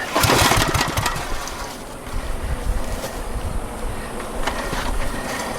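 Someone yanks the recoil starter on a Generac generator several times in quick succession, producing loud, close ratcheting pulls and a brief sputter as the small engine fails to catch.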